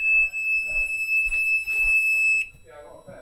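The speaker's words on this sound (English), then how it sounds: "Why do these fire alarms keep going off?" Fire alarm sounding inside an abandoned, gutted hospital, a steady high-pitched electronic tone ringing continuously for over two seconds before cutting off, with people talking over it.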